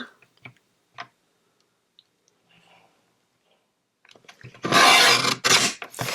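Scissors cut through a recycled Christmas card: faint isolated snips and ticks at first, then a burst of louder, rasping cutting near the end, close and without talk.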